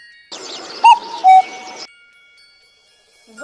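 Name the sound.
cuckoo calling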